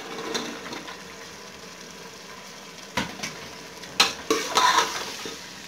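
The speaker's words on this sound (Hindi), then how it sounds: "अब इसको समय दो तीन मिनट भूनूंगा।" Cauliflower and potato are stir-fried in a pan for aloo gobhi, with a steady sizzle of frying under several sharp scrapes and clanks of a spoon stirring against the metal pan.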